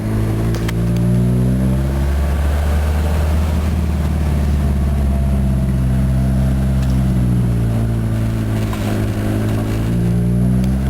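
Ford Mustang engine with a new exhaust, loud and steady close by, holding a rumbling idle and low revs throughout with rising and falling harmonic sweeps.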